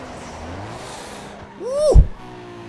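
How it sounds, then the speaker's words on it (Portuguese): Tires skidding on dirt as a Nissan Skyline drifts in Need for Speed Underground 2, a brief rising-and-falling screech building to a loud peak near the end over steady engine drone. "eu tô fazendo umas derrapagens tosca em cima do barro aqui e ele conta muito ponto"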